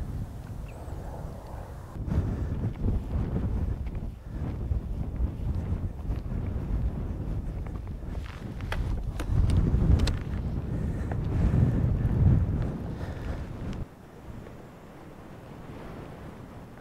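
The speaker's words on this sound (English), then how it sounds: "Hope you can hear me against the wind." Strong wind gusting across an open Peak District hilltop near Axe Edge, a loud, steady buffeting rush against the microphone that swells and eases over several seconds, with no talk.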